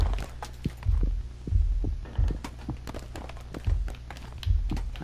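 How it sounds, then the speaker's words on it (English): Heartbeat sound in the horror video game Emily Wants To Play Too, a loud, deep, throbbing double thump repeating at a steady pace over a low hum, with faint footsteps in between. "I still hear the heartbeat."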